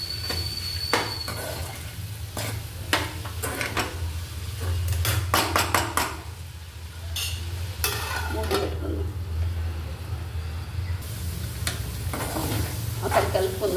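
Onions frying in a pan, stirred with a series of sharp scraping and clattering strokes over a steady close sizzle; no one speaks.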